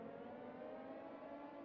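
A faint, steady air raid siren wails in the Ground of Aces WW2 aerodrome base-building game, a distant sustained droning tone with a low rumble beneath.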